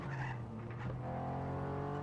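A powerful car in Just Cause 3, strong enough to knock down a tree, drives with a steady engine drone while its tires squeal and skid, a continuous, fairly quiet sound with no talk.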